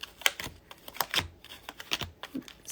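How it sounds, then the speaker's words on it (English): Tarot cards being shuffled by hand close up: a quick run of crisp, irregular card clicks and flutters with short gaps, no voice over them. "I'm just going to shuffle them out a little bit."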